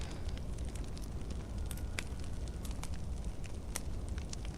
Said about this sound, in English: Just healing by the campfire though.